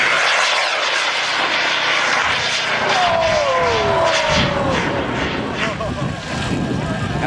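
A model rocket launches at the LDRS 31 high-power rocketry event with a loud, steady roaring rush lasting several seconds and a brief falling whine. Wind noise and distant voices run underneath.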